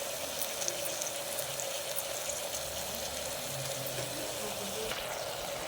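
Mutton pieces with turmeric powder sizzle steadily in a pan for a mild mutton gravy, a continuous soft hiss and crackle under a faint low background hum, with no pauses.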